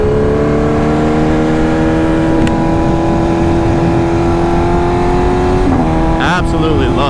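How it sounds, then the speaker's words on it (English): A 2025 BMW S1000RR motorcycle engine drones loud and steady at high revs while riding, with a quick shift and rev change near the end. "Absolutely love this motorcycle"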